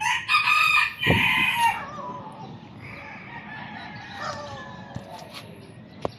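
Gamefowl chickens cluck and call loudly and close while being fed, a busy burst at the start that eases into quieter scattered clucks, with no talk.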